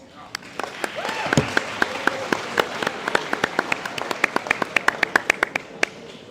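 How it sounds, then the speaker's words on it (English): An audience at an athletics awards ceremony gives a round of applause for a caterer, with many distinct sharp claps in a brisk, uneven rhythm over a crowd wash that builds and then thins out. "Let's give a round of applause once again to Majestic Catering for that amazing meal"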